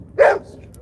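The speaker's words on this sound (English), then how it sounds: "That's my neighbor's dog." A neighbor's dog gives one short, sharp bark from a moderate distance, then falls silent.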